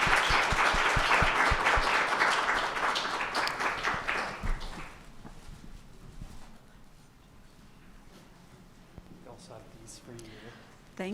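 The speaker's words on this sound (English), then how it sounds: "If we could give them one last round of applause," Audience applause for two presenters at a talk on Alberta's family justice system, loud dense clapping for about five seconds that then fades into quieter room noise with scattered claps.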